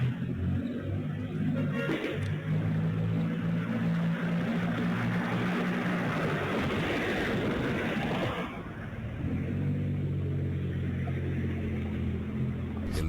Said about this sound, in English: that same Mercedes car speeds through the streets